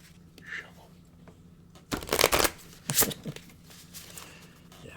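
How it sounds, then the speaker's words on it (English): A deck of oracle cards is shuffled in two quick bursts of riffling, crisp and close, with quiet room tone before, between and after. "Let's do a proper shuffle."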